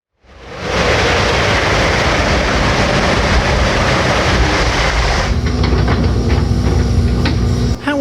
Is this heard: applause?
no